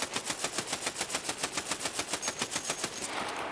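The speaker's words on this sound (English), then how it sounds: "What was that? Were you shooting?" Rapid automatic gunfire in the video game Escape from Tarkov, a steady burst of about twenty loud, evenly spaced shots that ends abruptly, with no talking over it.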